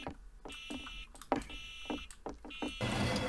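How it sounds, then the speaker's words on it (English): In a video game, a kitchen oven alarm sounds several short bursts of shrill, repeated beeping. The beeping is moderately loud, mixed with clattering game sounds and a rush of noise at the end. "Oh. it wasn't an alarm clock. It was the oven."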